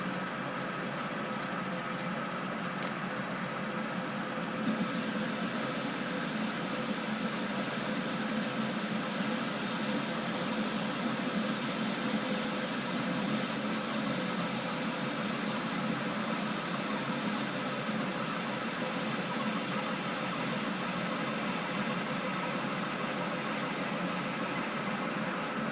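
A Myford lathe fitted with a ball-turning radius cutter runs steadily at slightly reduced revs, giving a constant close mechanical hum and whine with no talk over it.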